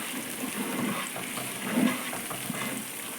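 Kanthari chillies fry on a low flame as they are stirred, giving a soft, continuous sizzle with faint scraping and small bubbling crackles throughout.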